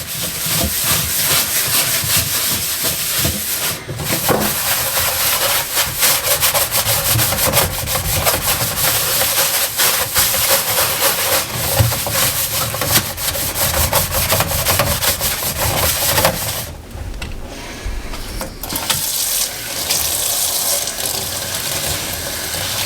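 A damp mesh sponge with water scrubs a burnt-on mess in steady, close, rasping strokes that continue for about sixteen seconds, pause briefly, then start again more lightly.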